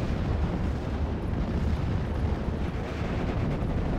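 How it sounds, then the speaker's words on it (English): Off-map artillery bombardment pounds a Normandy 44 battlefield in Steel Division, with a dense, continuous rumble of overlapping explosions and blasts that never lets up and stays loud throughout. "my off-map artillery is well away in trying to blow up all of the enemy infantry here"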